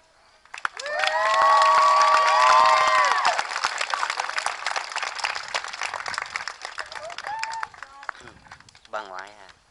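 An elementary school graduation crowd breaks into applause and cheering after a speech, clapping swelling loud for a few seconds then tapering into scattered claps, with children's shouts and voices mixed in.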